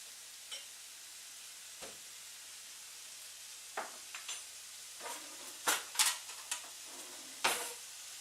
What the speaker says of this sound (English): I'm going to put a little bit of miso barley in, and I'm going to stir that